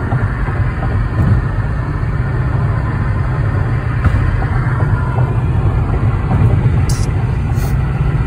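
Car cruising on the interstate, a loud steady engine drone and road rumble heard from inside the cabin, continuous and even with faint ticks, with no talking.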